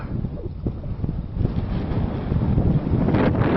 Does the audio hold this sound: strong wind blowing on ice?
yes